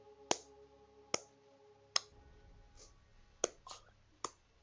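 A slow clap: single sharp claps spaced about a second apart, six or so in a row, with faint room noise between them.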